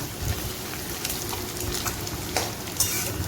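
Egg frying with capsicum in a pan while being stirred, a continuous close sizzle with light scraping and occasional sharp spatters and crackles, no one speaking.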